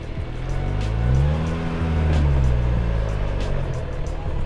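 A 2019 Jeep Wrangler Rubicon crawling up an off-road obstacle, its engine droning steadily and rising slightly in pitch, close and continuous with rough wind or ground noise over it.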